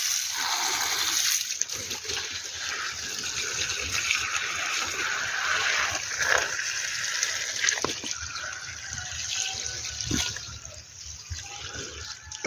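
Cha-om plants being watered, with water splashing and pouring steadily at close range for the whole stretch, with no talking.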